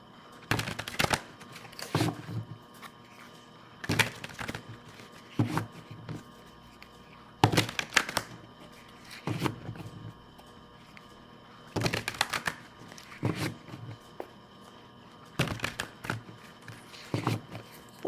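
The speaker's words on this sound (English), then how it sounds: "Let's give these a ruffle shuffle." Playing cards riffle shuffled by hand, several quick crisp bursts of fluttering clicks spaced a couple of seconds apart over a quiet background.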